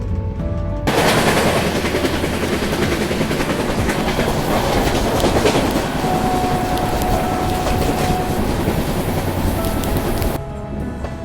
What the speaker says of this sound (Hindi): ट्रेन मंद मंद रफ्तार में गम्हरिया जंक्शन को स्किप कर रही है